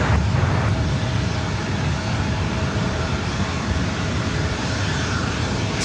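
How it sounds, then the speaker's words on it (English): A WestJet Boeing 737 MAX 8 departing LAX roars with a loud, broad, continuous jet rush and low rumble, close and steady throughout, with no voices. "WestJet Flight 1101 heading back to Toronto, 737 MAX 8"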